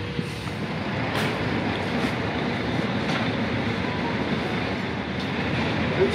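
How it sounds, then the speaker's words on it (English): A train pulls into Helensvale station platform in Queensland, a steady loud rumble of wheels and carriages with faint brake hiss, continuous and close, no talk. "Train is coming."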